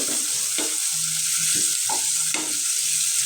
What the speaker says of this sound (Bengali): ভালো মতো ভাজে দিই পেঁয়াজটা